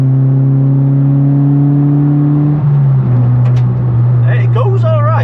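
A Suzuki Swift Sport engine drones at a steady high rev inside the cabin, then the pitch drops and swells again. Someone speaks faintly over the engine near the end.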